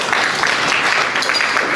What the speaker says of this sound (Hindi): इसमें तालियां हो जाए जोर से।